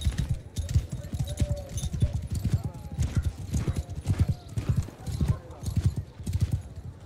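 Cavalry horses clip-clop in a steady, dense patter of hooves in the Mount & Blade II: Bannerlord video game, with an occasional whinny and someone talking over the hoofbeats throughout.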